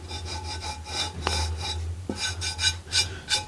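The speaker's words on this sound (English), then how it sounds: "you basically just rub it with this eraser" Lodge rust eraser rubbed across a cast iron pan, giving a steady rasping scrub in repeated strokes with a couple of sharper scrapes, close and moderately loud with no talking.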